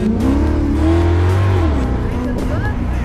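A V8 car engine accelerates, its loud, close roar rising steadily in pitch as it revs through the run.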